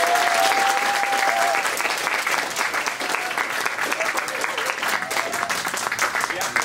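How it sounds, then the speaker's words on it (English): An audience applauds after speakers rise at a small speaker-series event, with steady, dense clapping that stays loud and even throughout. "Let's give them one more round of applause."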